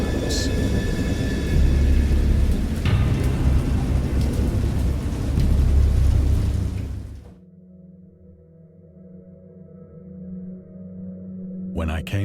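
Thunderstorm effect for a dark sea tale: heavy, loud rumbling with rain for about seven seconds, then cut off sharply into a quiet, low, sustained tone.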